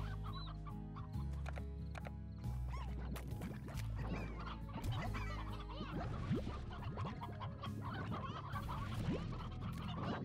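Hens in Slime Rancher cluck continuously in a busy, overlapping chorus, close and steady throughout with no voices.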